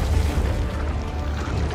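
Explosions in the fighting video game Injustice 2 roll out as a continuous deep, booming rumble, loud and steady for under two seconds with no talk over it.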